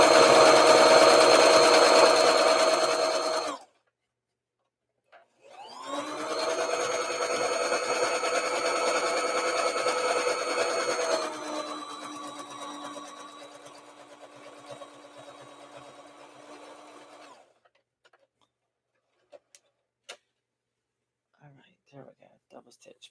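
A sewing machine double stitching lace trim onto a doll dress runs in two long bursts of steady mechanical whirring, close and loud, with a brief pause between and faint clicks afterward.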